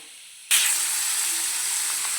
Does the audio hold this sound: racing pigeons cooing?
no